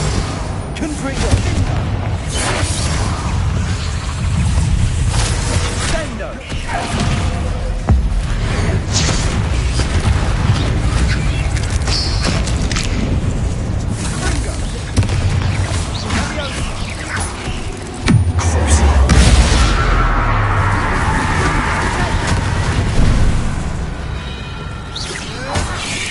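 A Confringo explosive spell cast in Hogwarts Legacy, a Harry Potter video game, lands as a heavy booming blast among dense, continuous battle noise, with a louder low thump near the end and voices speaking over it.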